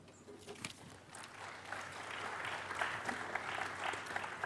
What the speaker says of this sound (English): give them a warm round of applause and enjoy the talk